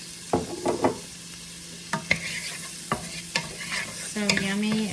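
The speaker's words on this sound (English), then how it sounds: "Okay, so we are sizzling. And we're gonna get our onions translucent." Onions sizzle in sesame oil in a pan for a pork stir fry, a close steady hiss punctuated by sharp scraping and stirring knocks of a utensil, the frying growing louder near the end.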